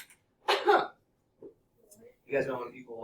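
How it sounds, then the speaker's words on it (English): A person clears their throat a few times in short, harsh bursts, as if something is stuck, with brief pauses between them in a quiet room. "Sorry, something stuck in my throat."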